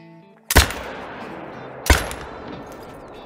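Two sharp rifle shots crack out in a hunting game, theHunter: Call of the Wild, spaced over a second apart, each loud and close with a long rolling echo.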